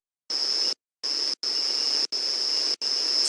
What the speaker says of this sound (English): So the cicadas are calling.